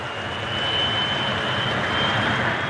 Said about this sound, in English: Shortly afterwards, a second plane left.